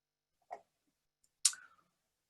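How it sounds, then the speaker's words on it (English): Two quick, isolated clicks of a keyboard arrow key about a second apart, close and fairly quiet, with silence around them. "that sound is me trying to hit the arrow on my keyboard."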